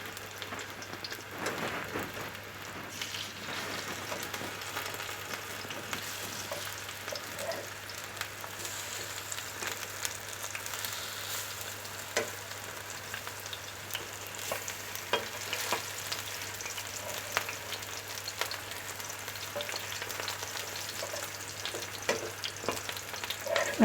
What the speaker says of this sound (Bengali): আমি এইগুলোকেও ভেজে নেব উল্টে পাল্টে।